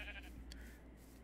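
A sheep in the video game Minecraft gives one short, quiet bleat over a steady low background hum.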